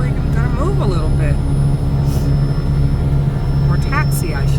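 Steady drone of twin aircraft engines as the plane begins to taxi, loud and constant throughout, with faint voices and a short crackle of radio chatter over it.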